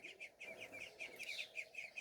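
Small birds chirp in a quick, steady series of repeated tweets in a grandmother's yard, fairly close and clear over a quiet background.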